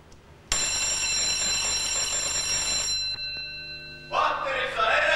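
A wake-up alarm bell in army barracks rings loudly and continuously for about two and a half seconds, stops abruptly, then a burst of noisy commotion follows.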